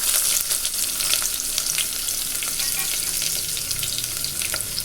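Chopped onion sautés in oil with fenugreek seeds, a dense continuous sizzle crackling up close, broken by frequent sharp pops and occasional stirring.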